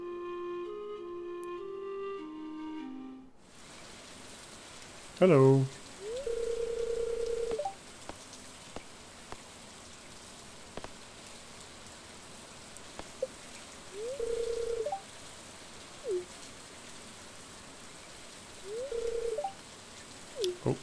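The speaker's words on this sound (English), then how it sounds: "In the rain." Soft, steady rain patters in the video game Stardew Valley, a quiet continuous hiss after a short burst of music, dotted with brief chiming game tones and blips.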